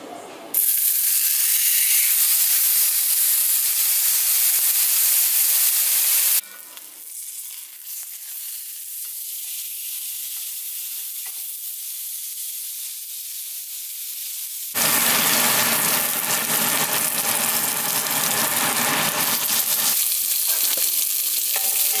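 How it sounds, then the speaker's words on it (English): A pork chop frying in hot oil in a pan, a loud hissing sizzle that drops to a softer steady fry, then swells again into a strong close spatter. "we're gonna carefully put the pork chop in the pan, and we're gonna let it sit for about 5 to 6 minutes per side"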